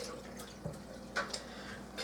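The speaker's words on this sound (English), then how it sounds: "let me wash my hand." Kitchen tap running while hands are washed: a faint, steady water flow with a few soft splashes and drips, heard close and alone without talk.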